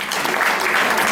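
Steady, loud applause from a crowd at a Father's Day event, dense clapping filling the whole moment without a break.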